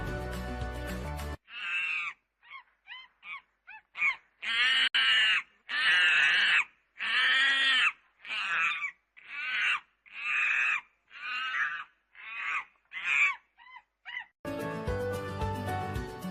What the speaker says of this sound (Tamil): குரங்கு